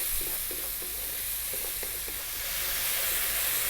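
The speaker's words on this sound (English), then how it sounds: "What we want to do is really cook the tomatoes down." Tomatoes with cumin and chili powder cooking down in a pan, a continuous soft sizzle and hiss with a few light stirring scrapes, fairly quiet and steady.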